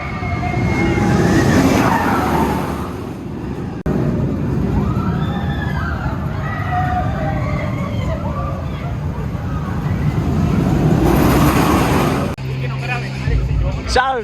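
Stuntfall, a giant inverted boomerang roller coaster at Parque Warner Madrid, roars loudly along its track with rushing wind and rattling, while riders shout and voices carry over the noise.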